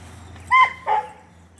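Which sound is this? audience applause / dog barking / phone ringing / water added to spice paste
dog barking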